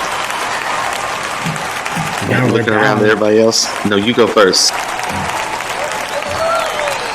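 Applause from a high school percussion show audience, a loud continuous crowd clapping throughout, with people talking over it in the middle.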